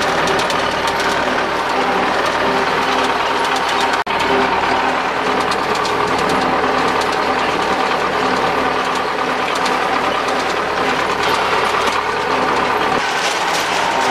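A MTZ-82 tractor engine hauling a trailer of apples runs loudly and continuously from up close, with a steady mechanical clatter and knock throughout and no talking.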